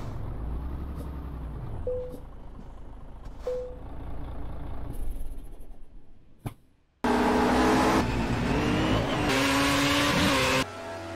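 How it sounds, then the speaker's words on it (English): A heavy truck engine drones and rumbles steadily while driving in Euro Truck Simulator 2, then cuts out briefly before a louder, denser burst of engine and road noise fills the rest. "This is Euro Truck Simulator 2"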